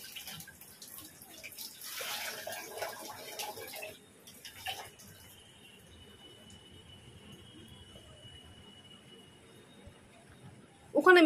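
Laundry is washed by hand in very hot water, with a few seconds of splashing, running water that then drops away to a quieter, steady background.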